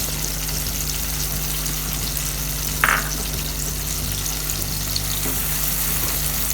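Bay leaves, lemongrass and galangal stir-fried for sambal kulit tangkil, a steady sizzle with a hum in the background and one brief scrape of stirring near the middle.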